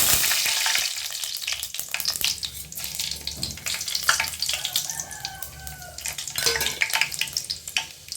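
Fenugreek and cumin seeds crackle and sizzle loudly in hot oil, a dense continuous frying hiss with scattered pops throughout.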